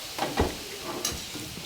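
Sautéed shrimp with aji ginisa seasoning being stirred in a pan, with a few soft scraping strokes over a light sizzle, close up and with no voices.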